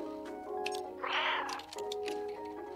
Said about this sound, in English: Let's communicate. Meow, meow, meow.